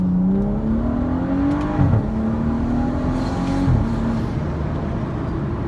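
A modified BMW F30 335i accelerates hard at roughly three-quarter throttle, heard from inside the cabin with the sunroof open: a loud, steady engine drone climbs in pitch through two gear changes, with no talking.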